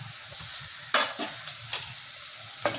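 Large chunks of mushroom sautéing for a Tamil-style mushroom masala gravy, with a steady soft sizzle and a few sharp stirring scrapes at irregular moments, close and without talk.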